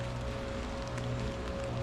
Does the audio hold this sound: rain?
yes